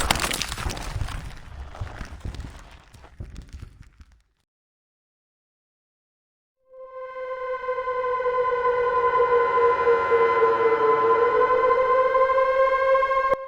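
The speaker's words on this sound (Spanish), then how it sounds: "Las sirenas de emergencia lejanas retumbaron los alrededores" Distant emergency sirens in a horror story scene after a building collapses: a burst of crashing, breaking debris, a moment of silence, then loud wailing sirens rising and falling in pitch and overlapping, with no talk.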